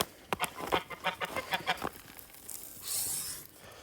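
Close chickens cluck in a quick run of short, rhythmic calls, then fall quieter as a brief hissy rustle takes over near the end.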